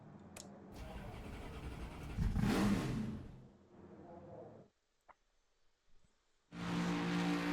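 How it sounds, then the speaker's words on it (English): Race car engine starting in the NASCAR 25 video game: a loud starter crank builds into a revving roar, drops to near silence with faint clicks, then the engine bursts back in at steady, full volume. "Start your engines. Time to go now. Fire it up."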